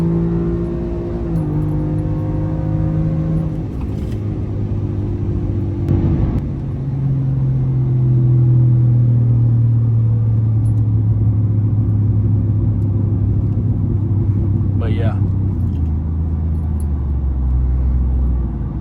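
A Ford F-150 truck engine revving hard while racing: a loud, close engine whose pitch climbs and drops through the gears, settling into a deep, sustained rumble, with no talking.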